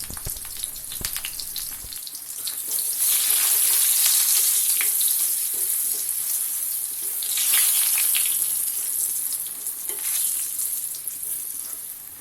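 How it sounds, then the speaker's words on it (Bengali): Potatoes seasoned with salt and turmeric frying in hot oil, a steady hissing sizzle that swells and fades slightly, close by and fairly loud, with no voices. "প্রথমে আলুগুলিকে ভেজে নেব"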